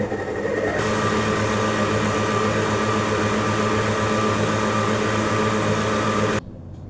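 A stand mixer kneading sourdough bread dough at a slightly higher speed gives off a loud, steady motor hum and whir that runs continuously, then drops off abruptly near the end.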